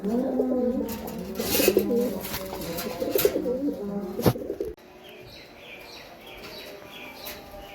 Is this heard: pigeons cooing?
yes